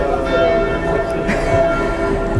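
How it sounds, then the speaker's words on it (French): A doorbell rings continuously during a lecture with a sustained, ringing tone, steady and fairly loud throughout, with a rich layer of overtones. "Je vais attendre la fin de la sonnette si vous permettez"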